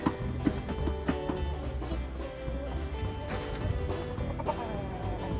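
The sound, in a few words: hens clucking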